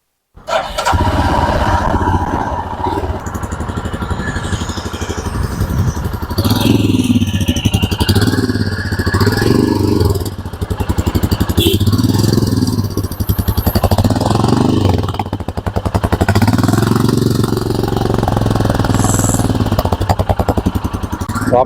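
A Royal Enfield Himalayan BS6 motorcycle engine starts and runs with a steady, loud, close thump, and the revs rise and fall in several swells over about twenty seconds, with no voices.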